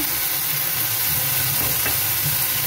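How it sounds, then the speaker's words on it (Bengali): Chopped garlic sizzles as it fries in a pan for chili garlic cauliflower: a steady, dense hiss that stays loud and even throughout, with faint stirring clicks underneath. "তারপরে রসুন কুচি দিয়ে দেবো"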